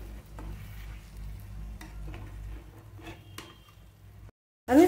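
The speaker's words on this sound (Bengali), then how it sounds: "এরকমভাবে ধীরে ধীরে নেড়ে নেব।" Mustard paste masala for a village-style prawn curry is slowly stirred over low heat, giving a quiet, steady sizzle with a few faint spatula clicks, then a brief silence and a louder scrape at the end.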